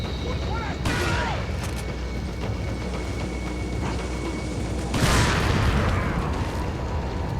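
Explosions in the video game Resident Evil 4, two loud, broad booms a few seconds apart, each followed by a rumbling decay, over constant game noise with a voice talking in the background.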